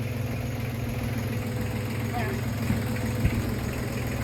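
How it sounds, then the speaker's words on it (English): A boat's wing engine idles with a steady low mechanical drone and faint vibration, continuous and fairly close, with a couple of brief knocks near the end. "Do you want the wing engine shut off?"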